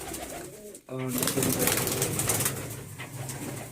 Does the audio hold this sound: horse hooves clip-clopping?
no